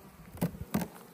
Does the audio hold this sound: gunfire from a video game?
no